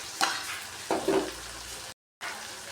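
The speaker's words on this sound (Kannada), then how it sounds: "ಆಲೂಗಡ್ಡೆ ಮತ್ತು ನುಗ್ಗೆಕಾಯಿ ಎಲ್ಲ ಈ ಥರ ಚೆನ್ನಾಗಿ ಫ್ರೈ ಮಾಡಿಕೊಂಡು" Potatoes and drumsticks frying in a pan, with scraping stirs and a steady soft sizzle, followed by a brief dropout then more sizzling; quiet and close, with no talk.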